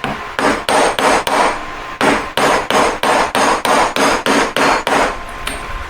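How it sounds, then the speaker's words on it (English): A hammer taps a metal ring shank into a tapered point in a series of about fifteen crisp, evenly spaced ringing blows, close and loud, with a brief pause partway through. "Just tapping the shank up to a tapered point a little bit, gives me an extra bit of height."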